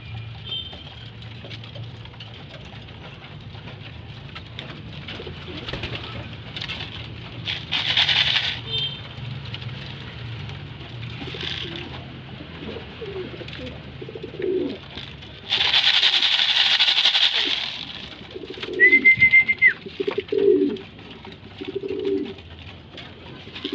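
Pigeons coo in low, soft bursts amid steady pecking and rustling, with occasional louder flutters and hisses nearby.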